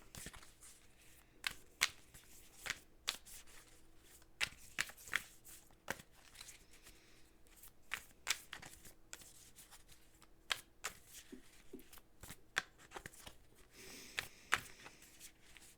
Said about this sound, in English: we're going to use the Moonology deck from Yasmin Boland.